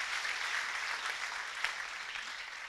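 A church congregation claps together for a mother who has just given birth, a dense, steady applause that stays fairly even throughout, with no talking over it.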